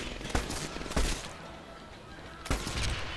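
Gunfire in the Medal of Honor Airborne video game, three sharp shots spaced irregularly over a busy rumbling battle background.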